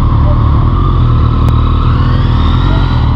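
Motorcycle ridden carefully on a gravel mountain road in the Pyrenees, a loud, close, continuous engine drone with road rumble and wind, steady throughout with a brief click near the middle.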